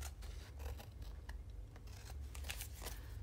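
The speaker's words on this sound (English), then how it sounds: "then we can go and trim off the edge pieces" Scissors trim the edge pieces from a paper craft piece near an envelope, giving a steady run of close, dry snips and rustles that go on without pause.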